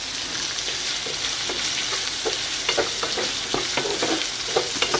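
Tomatoes sizzling in a hot pan with onion and garlic, a steady broadband fry hiss with repeated scraping stirs and small crackles, close and fairly loud, no talking.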